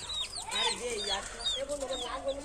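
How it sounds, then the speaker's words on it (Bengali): Two backyard hens cluck and squawk close by in short, irregular bursts, with higher chirping calls mixed in. "এই দুটো মুরগি আছে আমাদের বাড়িতে"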